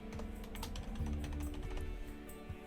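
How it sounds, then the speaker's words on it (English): Fast, close clicking of keys on a computer keyboard as a team name for an F1 Manager 2024 racing team is typed in a steady burst. "So let's type that in."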